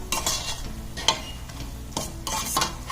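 Chili powder is sautéed in oil for a large batch of vatha kuzhambu, with loud, close bursts of stirring and scraping over a soft sizzle, coming in three or four separate strokes.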